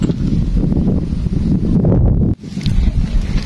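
Strong wind buffets the microphone with a low, rushing roar, dropping briefly before gusting again.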